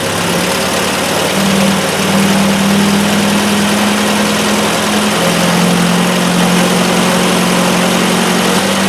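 A Triumph Spitfire engine runs steadily at around 3,000 RPM during a generator test, a loud, constant close droning hum with a slight wavering pitch.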